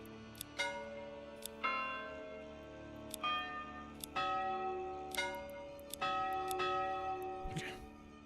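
Church bell chimes in a video game strike repeatedly at irregular intervals, each a bright ringing tone with lingering overtones, fairly loud over a low steady background hum.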